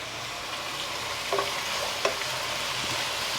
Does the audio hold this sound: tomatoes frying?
yes